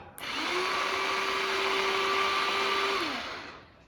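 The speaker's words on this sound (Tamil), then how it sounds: "இந்த மாதிரி பண்ணோன்னா அப்படியே நமக்கு வெங்காயம், பச்சை மிளகாய் எல்லாமே எது வேணுனாலும் பொடி பொடியாக கட் பண்ணிக்கலாம்" A rechargeable electric vegetable chopper whirs at a steady high pitch for about three seconds as it chops onions and green chillies, starting and stopping abruptly and heard up close on its own.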